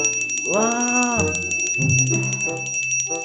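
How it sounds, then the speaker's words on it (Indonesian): A toy alarm bell rings with a bright, steady electronic tone over a continuous high whine, followed by shorter chiming notes, loud and close throughout. "suara lonceng kejahatan berbunyi."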